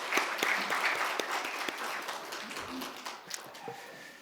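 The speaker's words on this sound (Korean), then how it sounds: "크게 하나님 앞에 영광의 박수를 돌리겠습니다." Congregation applauding in a church during a Sunday service, a brief burst of clapping that fades over a few seconds.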